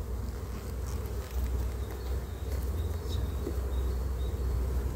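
Honeybees from a full, busy colony drone steadily in a dense, even buzz at an open hive, close and constant for the whole stretch, with no voices over it.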